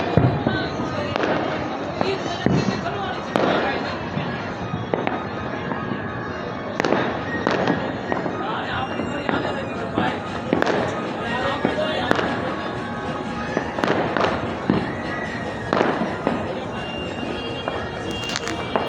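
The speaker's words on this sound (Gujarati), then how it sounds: "હજી ફટાકડા ફૂટે છે" Firecrackers burst again and again at uneven intervals during Makar Sankranti in Surat, after dark, sharp bangs near and far, while people chat in the background.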